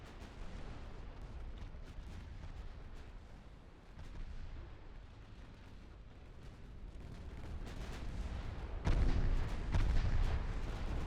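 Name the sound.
ammo detonation explosion on a ship in Ultimate Admiral Dreadnoughts video game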